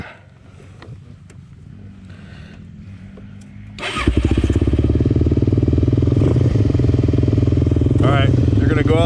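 A motorcycle engine picks up sharply partway through and then roars steadily and loud as the bike rides off, with quieter engine and talk before it.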